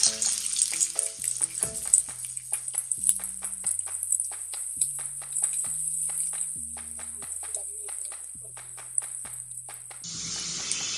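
Green chillies sizzling in hot oil in a pan while cooking Puneri misal, a steady crackling fry with a tonal hum underneath, close and moderately loud throughout.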